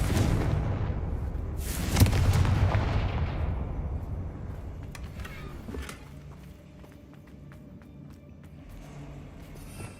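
Confringo blasting spell explosions in the video game Hogwarts Legacy, one big booming burst that rolls off into a long fading rumble, with a smaller thud later on.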